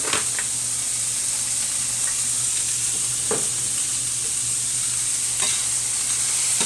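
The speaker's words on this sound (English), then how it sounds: "so saute this around a little bit" Ham with onion and seasoning sizzles steadily in a frying pan for an omelette, a constant close hiss broken by a few soft stirring scrapes.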